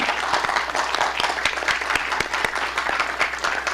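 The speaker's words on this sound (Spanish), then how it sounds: "Un aplauso para la doctora." An audience at a forum on the human right to water claps steadily for a doctor, with dense, even applause and sharper individual claps standing out throughout, close and loud.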